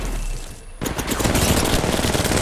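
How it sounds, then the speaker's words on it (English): Rapid automatic gunfire in the battle royale shooter Apex Legends Mobile, a dense loud burst of shots that starts abruptly after a brief lull and continues steadily to the end. "Opening fire."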